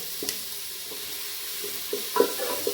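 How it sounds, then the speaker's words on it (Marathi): Onions frying and being stirred in a pan for chicken dum biryani, a low steady sizzle with a few quick scraping stirs, close and quiet. "कांदा थोडा तांबूस होईपर्यंत फिरवायचा आपल्याला"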